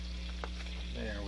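Heavy cream poured into a hot pan for gravy, a steady low sizzle and frying hiss running throughout with faint stirring movement, close and continuous, no talking.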